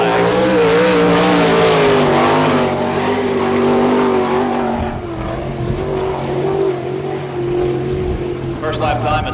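A sprint car runs a qualifying lap at a Florida dirt track during speedweek, its engine roaring loud and close with a steady high-pitched whine that shifts in pitch as it passes, with an announcer's voice talking over it.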